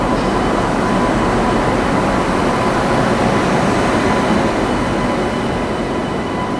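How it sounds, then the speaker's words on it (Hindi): Poorvottar Sampark Kranti Express pulling into a platform behind a Ghaziabad-shed locomotive, a loud, steady roar and rumble of rolling wheels and passing coaches that carries on without a break, with no one talking. "गाज़ियाबाद के लोको 37242 के साथ हमारी ट्रेन आ गई है।"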